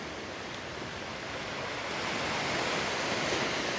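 Steady roar of high-tide surf washing onto the shore in Puerto Vallarta after Hurricane Priscilla, broadband and continuous, swelling slightly louder toward the end with a windy hiss.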